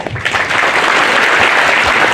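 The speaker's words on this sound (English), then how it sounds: "I request the audience to please clap for them" Loud, close applause from an audience at a folk fusion night as guests receive tokens, a thick burst of many hands clapping that holds steady for the whole short stretch.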